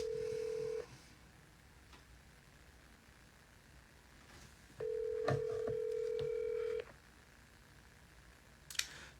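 An unanswered phone call's ringback tone, steady and mid-pitched, sounds twice: a short tail at the start, then one two-second ring after a long pause, with faint clicks and room noise between.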